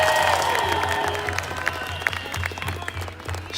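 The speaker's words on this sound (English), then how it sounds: "Let's give them all one more big warm cheer." A crowd at an outdoor rally in Chicago cheers and applauds, a dense wash of clapping that fades slightly over a few seconds with scattered louder claps and whoops.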